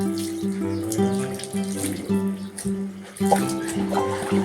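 Water runs steadily from a tap or into a tub, a continuous splashing flow with some clatter, close by.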